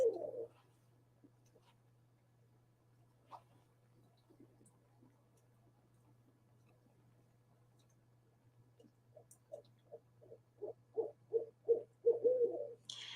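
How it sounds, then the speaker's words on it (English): Two barred owls call back and forth in summer woods. Sparse faint hoots come first, then a rhythmic series of close, fairly loud hooting notes builds toward the end over a quiet background. "I was able to record a little bit of audio here of barred owls"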